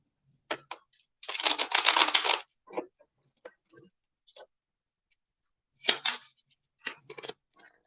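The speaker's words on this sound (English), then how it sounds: "I'm actually hearing to mix the cards up, so we're going to shuffle really good here." Close, dry bursts of tarot cards being shuffled and riffled, a long rustling flurry followed by scattered short flicks and taps with pauses between.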